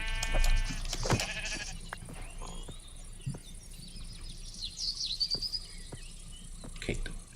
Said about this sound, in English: Alright, we got our first sheep over here.